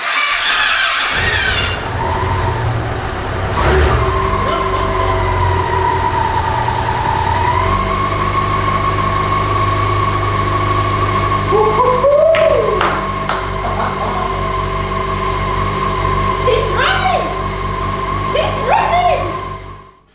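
A Yamaha XJ6N motorcycle engine with a newly installed motor cranks over, catches and settles into a steady loud idle, with a few revs and squealing mechanical noises over the running engine.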